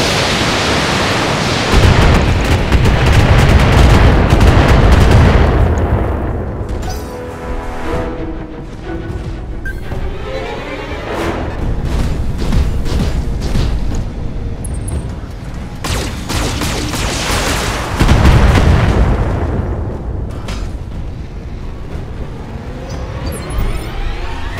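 Heavy mech weapons fire in the Battletech game, missile volleys and cannon blasts roaring in dense, loud waves with brief lulls, sustained and close throughout.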